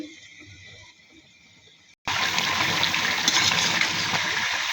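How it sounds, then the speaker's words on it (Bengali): Hot water is poured from a vessel into duck curry cooking in a pan, giving a sudden loud, steady gushing splash that follows a quieter stretch of low kitchen sizzle. "এখন দিয়ে দিব কিছুটা গরম পানি ঝোলের জন্য।"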